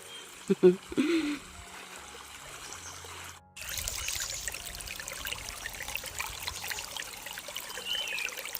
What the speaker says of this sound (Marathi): कसं पाणी वाहतंय आणि हे समोर डॅम